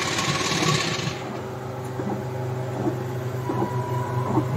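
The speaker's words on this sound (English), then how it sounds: "See, the printing is still going on." An automatic DTF direct-to-film printer runs steadily, its mechanical hum and rhythmic carriage motion continuing alone, with a brief higher whir at the start.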